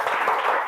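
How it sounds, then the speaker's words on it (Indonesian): Short burst of classroom applause in an Indonesian school lesson, steady dense clapping from a group of students, fairly close and even throughout with no talking. "Tepuk tangan untuk kita semua."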